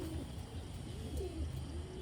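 Malwai-breed pigeons coo faintly in their loft, soft low rolling calls recurring every half second or so over a quiet background hum.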